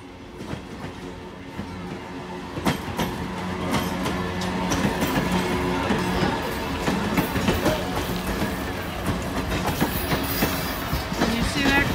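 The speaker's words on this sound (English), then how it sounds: "the Lehigh Gorge train snuck up on me as I'm making my way back to the parking" A Lehigh Gorge excursion train hauled by steam locomotive 2102 passes close by in Lehigh Gorge State Park, a loud, continuous rumble with rhythmic wheel clatter over the rails that builds and holds steady throughout.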